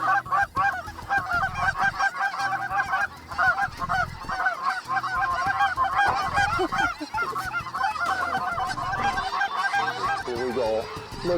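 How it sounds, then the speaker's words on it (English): A large flock of migrating Canada geese honks continuously and loudly, many calls overlapping in a dense, chaotic chorus with no pauses. "it takes almost no time for the sky to turn black with incoming geese"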